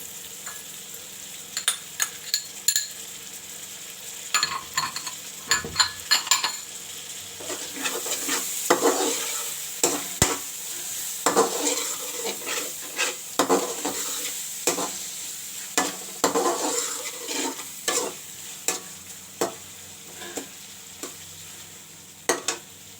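Onions and tomatoes frying in a pan for fish curry, a continuous soft sizzle broken by repeated scraping and clattering strokes of a spoon stirring, close and clear with no voices.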